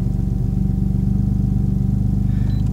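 A Porsche engine runs roughly at a lumpy idle with a fault, a close, steady low drone carrying a rhythmic uneven pulsing and shaking throb with no talk over it.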